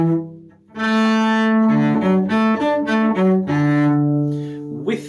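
Solo cello playing measures 5 to 8 of the Witches Dance theme from Suzuki Cello Book 2, a short phrase of sustained bowed notes with a lilting triplet feel, close and clear with no talking.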